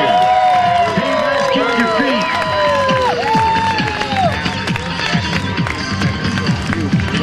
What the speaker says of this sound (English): Let's make some noise.